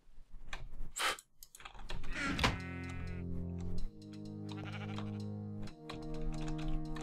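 Sheep bleat in the Minecraft video game, several drawn-out, wavering calls in close succession, with keyboard typing and mouse clicks mixed in.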